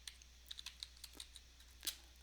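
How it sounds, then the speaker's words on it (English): Fingers typing a prompt on a computer keyboard, a quick run of light, close key clicks in an irregular rhythm with one sharper tap near the end. "you can type in your own prompt"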